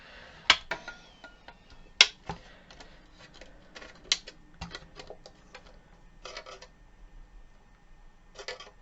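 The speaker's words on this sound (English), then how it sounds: "I'm going to crimp all the way along that fold with my pliers." Pliers crimp along a folded edge of sheet metal for a wall pocket, giving sharp, irregular metallic clicks and snaps spaced out over several seconds, close and fairly loud with quiet gaps between them.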